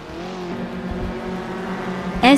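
The 2016 Mazda MX-5 Cup race car's engine drones steadily in a racing video game, a buzzing mid-pitched tone with faint pitch shifts, ending in a brief louder burst.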